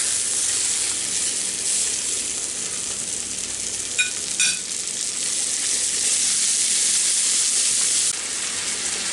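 Cube steak fries in butter in a pan, giving a loud, steady sizzle with a bright hiss throughout and a couple of brief sharper crackles midway.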